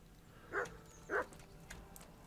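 A dog in the video game Kingdom Come: Deliverance gives two short, low, rough bursts about half a second apart, faint against quiet game ambience.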